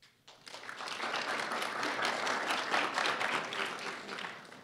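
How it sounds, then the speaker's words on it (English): An audience at a pitch presentation on human missions to Mars breaks into applause, rising quickly after a brief quiet start into a sustained wash of many clapping hands before tapering slightly at the end. "Could you please applaud if you think that humans should go to Mars?"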